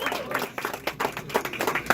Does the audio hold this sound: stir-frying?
no